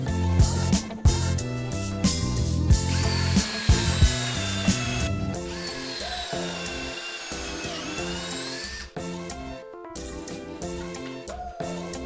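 A power drill drives pocket screws into a wood interior trim joint, giving loud, close bursts of whirring with pauses between them and a sustained high-pitched run in the middle.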